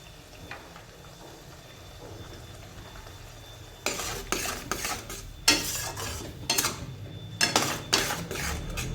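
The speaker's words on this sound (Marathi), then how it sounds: "आता हे छान तेल सुटतो तळून घेऊया" Onion, tomato and green peas stir-frying in oil: a low steady sizzle, then from about four seconds a run of loud scraping spatula strokes and metal clinks against the pan, close and irregular.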